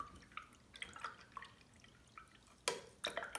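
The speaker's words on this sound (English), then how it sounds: "I'm now going to clean out my brush." A paintbrush is rinsed in a pot of water: quiet, scattered drips and light trickles, followed by two brief, louder swishes and splashes near the end.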